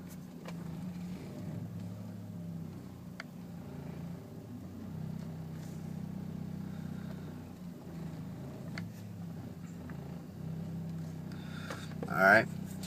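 A 2001 2.25ci car engine with a fault causing a rough idle, a low steady hum with slight wavering, heard close over a long stretch, with a brief louder burst near the end.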